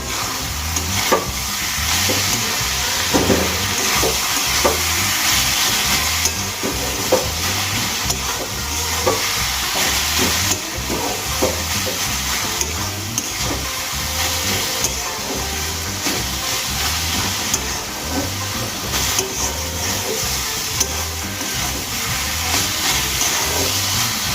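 Data shak greens with garlic fry in a pan, a steady loud sizzle and hiss running throughout, with repeated scraping stirs of the spatula at an irregular rhythm and no voices.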